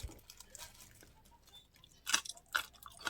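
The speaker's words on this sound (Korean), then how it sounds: "소리 들리시죠? 진짜 아삭아삭 맛있습니다." Crunchy pickled Korean radish, mu jangajji, is bitten and chewed up close in a quiet room, giving a few crisp, wet crunches that grow louder toward the end.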